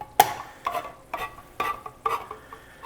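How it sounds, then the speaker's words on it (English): A plastic spoon scrapes and stirs the bottom of a brisket chili pan while deglazing, producing about five short, sharp scraping strokes in an irregular rhythm over a faint sizzle. "I think the technical term is deglazing."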